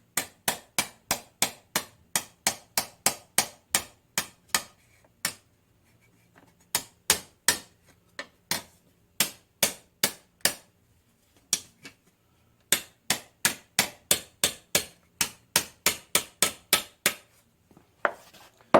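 A hammer strikes metal on a 1963 Chevrolet body panel in sharp, evenly spaced blows, in bursts of about ten hits separated by short pauses, close and loud in an otherwise quiet shop.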